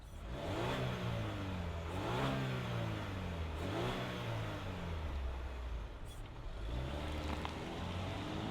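A 2025 Buick Envision ST crossover with a 9-speed automatic revs repeatedly, its engine note rising and falling in several swooping climbs, fairly close and with no talk over it.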